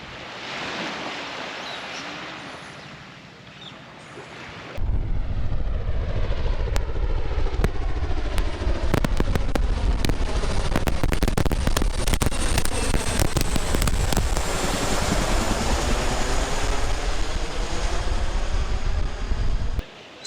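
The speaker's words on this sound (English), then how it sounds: "that was an army helicopter" An army helicopter passing overhead above a flooded coastal area after a cyclone, a loud, close, steady rotor roar that cuts in suddenly and holds for a long stretch with rapid chopping pulses, preceded by quieter outdoor ambience.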